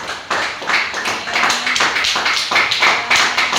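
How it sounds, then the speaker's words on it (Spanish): Congregation applauding Jesus during an evening church service, a dense, steady wash of many hands clapping that swells after a brief dip and carries on throughout. "Un aplauso a Jesús."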